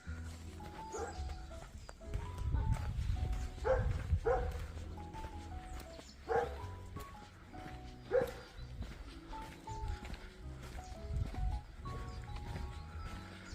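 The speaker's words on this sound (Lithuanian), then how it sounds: "Nepiktas, geras šuniukas." A small dog barks outdoors during a walk through a village. A few short yaps stand out at a moderate distance, set against footsteps and general outdoor ambience.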